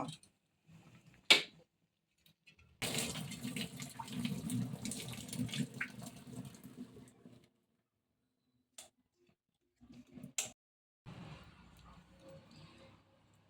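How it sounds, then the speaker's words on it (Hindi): Water from boiled capsicum is drained off through a strainer in a home kitchen, with quiet splashing and trickling in a few bursts separated by silence and small clicks. "पानी पूरा मैंने छान लिया है।"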